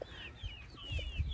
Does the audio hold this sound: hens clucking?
yes